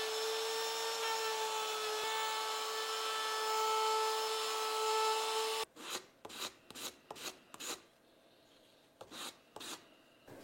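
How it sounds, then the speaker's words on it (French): Flush trim router cutting wood on a handmade ukulele body: a steady high whine runs for several seconds, then stops and gives way to a series of short, sharp bursts of cutting and handling noises at close range. "Un petit coup de fraise à affleurer et ça sera nickel."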